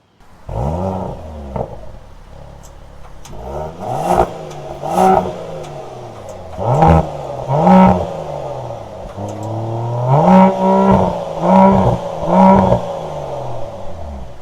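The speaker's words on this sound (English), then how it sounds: "we're going to take a listen to that exhaust right now" A 2021 Mercedes-AMG GLE 53 SUV's sport exhaust revs repeatedly, deep engine roars rising and falling in bursts, loud and close with no talking.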